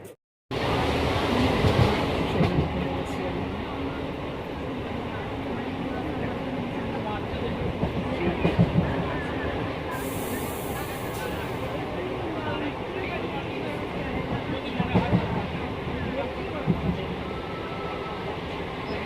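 Inside a moving train in the morning, a loud continuous rumble with rattling wheels and carriage noise, people talking over it.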